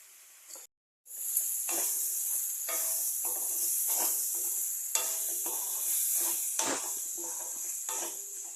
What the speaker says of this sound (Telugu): టమాటో కెచప్, అలాగే కొరియాండర్ కూడా వేసుకుని కలుపుతూ ఉందాం.